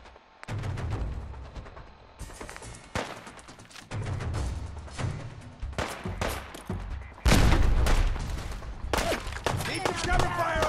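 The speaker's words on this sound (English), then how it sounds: "Need some cover fire over here!" Gunfire in the video game Fallout 4, repeated sharp loud shots and bursts in irregular clusters with rumbling impacts, close and dominant, mixed with speech.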